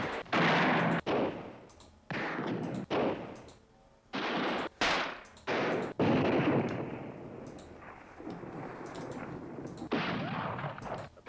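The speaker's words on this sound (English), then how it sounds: "Shotgun." A shotgun sound effect fires a series of loud, sharp blasts, each followed by a short decaying tail, irregularly spaced with some rapid pairs, and no voices present.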